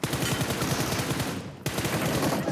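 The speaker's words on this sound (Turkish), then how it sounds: "Çok tatlı gitti M4 spreyler." An M4 rifle sprays in PUBG Mobile, with loud rapid full-auto bursts close by that stop briefly in the middle and then resume at the same fast rate.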